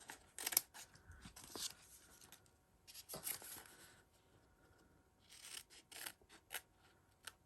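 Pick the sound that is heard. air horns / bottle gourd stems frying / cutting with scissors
cutting with scissors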